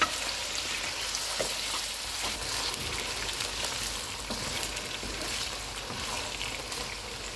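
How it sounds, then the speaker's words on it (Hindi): Beef sizzles steadily in a karahi over full heat, a constant crackling hiss with occasional louder pops and stirring. "बीफ का कलर चेंज होने तक इसको पकाएंगे।"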